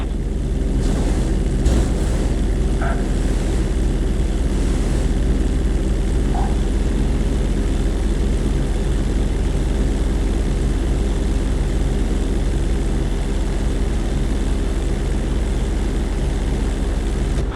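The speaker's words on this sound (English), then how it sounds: "If you touch down smoothly, your plane is going to stop pretty fast." A propeller plane in GTA 5 drones steadily while descending toward an emergency landing on a road bridge, its engine a continuous, loud hum that holds level throughout with no voices.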